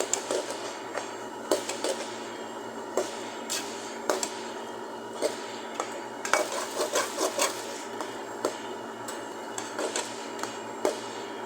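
A spoon stirs coriander leaves into a vegetable curry in a pan, producing repeated close scraping and rubbing strokes in an uneven rhythm over a quiet background hum.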